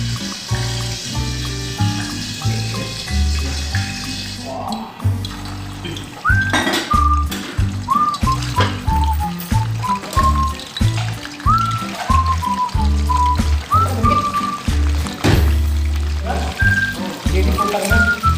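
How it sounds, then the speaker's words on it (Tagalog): Chicken adobo sizzles and crackles in a pan in a worker camp kitchen, with utensil clinks and metallic taps over the hiss and background music, close and moderately loud. "mag-i-start na po tayo ngayon mag-prito"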